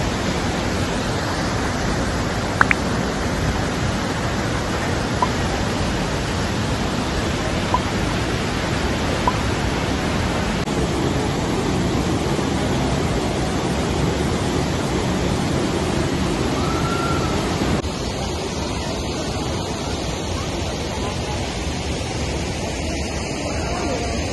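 Lower Falls waterfall at Johnston Canyon in Banff National Park, Canada, a steady close roar of rushing water filling the whole clip, broad and unbroken, with faint murmurs from nearby people barely rising above it.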